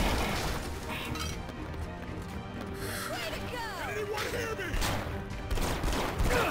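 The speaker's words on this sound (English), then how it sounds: "Cool it with the Gauss rifles." Gauss rifles fire in Red Faction Guerrilla, a dense, continuous barrage of crackling shots and debris crashes that stays loud throughout, with faint voices in the mix.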